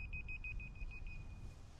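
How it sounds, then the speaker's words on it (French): A dog collar emits a quick series of about eight faint, high electronic beeps in an even rhythm, then one drawn-out tone fading away, over low outdoor background noise. "Mais c'est un collier qui bip"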